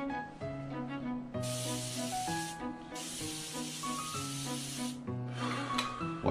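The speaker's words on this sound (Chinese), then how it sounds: "我一般会用一点这个雅诗顿抗氧精华喷雾" An Estée Lauder antioxidant facial mist sprayer gives three fine, hissing bursts of a few seconds each, close by, over steady background music.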